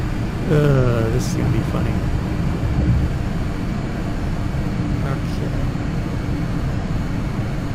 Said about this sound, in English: now I got to spool these engines. I got to remember these engines are going to spool very slowly.